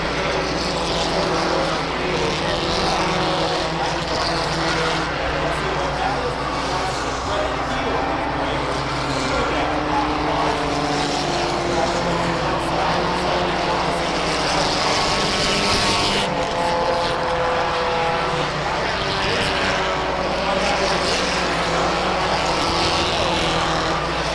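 Race cars lap a short-track speedway on a Saturday night feature, their engines droning loud and continuous throughout with a race announcer talking over the steady roar.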